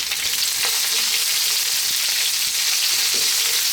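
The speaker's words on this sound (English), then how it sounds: "Next up, we're going to drop in our onions." Onion rings sizzle loudly in a hot pan on high heat for a vegetable curry, a steady dense crackle of frying with faint stirring touches and no voices.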